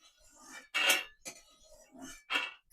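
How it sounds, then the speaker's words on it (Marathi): Roasted peanuts are scraped from a pan onto a plate, giving a few separate close clatters and rattles with short gaps between them and no talk. "त्याला मी एका प्लेटमध्ये काढून घेते."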